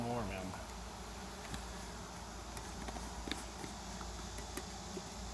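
Honey bees buzz in a hive jar during a powdered-sugar shake, a soft continuous hum with light taps and knocks scattered through it and people talking faintly nearby.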